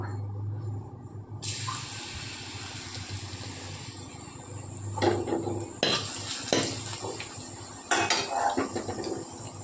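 Chopped garlic dropped into hot oil in a kadai sizzles steadily and close, with a few sharp bursts as pieces hit the oil and a spoon scrapes the pan; no one speaks.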